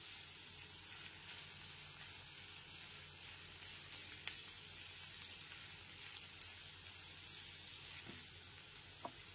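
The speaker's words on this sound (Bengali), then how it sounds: "গ্যাসের ফ্লেমটা লো টু মিডিয়ামে রেখে সবজিগুলোকে খুব ভালো করে ভেজে নিতে হবে।" Chopped vegetables fry in a pan over a low-to-medium gas flame, giving a faint, even, continuous sizzle with a couple of small scrapes; no talking.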